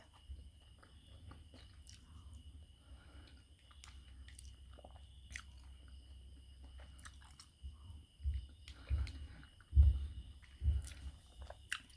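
Someone chews a black sticky rice dessert with coconut milk and longan syrup, soft, wet, close-up mouth sounds that start faint and grow into louder, squishy bites near the end, with no talking.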